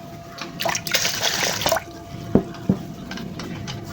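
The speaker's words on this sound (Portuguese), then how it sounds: "Vou colocar mais um pouquinho de água." Water is poured from a container into a pot of milk for rice pudding, a short splashing stream followed by a couple of distinct drips, close up without talk.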